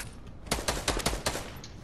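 Rapid bursts of video game gunfire, about six sharp shots in quick succession from mid-clip, fairly loud and close with no talking.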